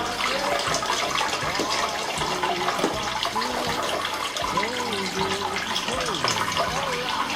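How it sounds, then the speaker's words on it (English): Sparge water pouring steadily over a bed of grain while brewing a one-gallon batch of strong homebrew ale, a continuous close splashing wash with speech-like voices and faint chatter running over it throughout. "But yeah, here comes the sparge water."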